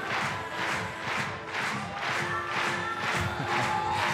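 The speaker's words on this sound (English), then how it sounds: "Crowd are getting so into this, as you'd expect. Yeah, very well-timed claps with the music." A crowd at a European Championships sport climbing event in Munich claps in time with music, rhythmic bursts of applause and cheering pulsing about every half second from a distance.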